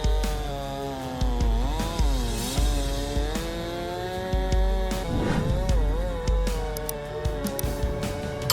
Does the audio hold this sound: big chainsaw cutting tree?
yes